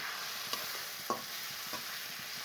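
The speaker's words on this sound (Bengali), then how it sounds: "দিয়ে এখন ভালোভাবে মশলাটা কষিয়ে নেব" A ginger, garlic and cumin paste with turmeric and green chili sautés in hot oil in a pan, a steady soft sizzle with a few light scrapes of a spoon stirring, no talk.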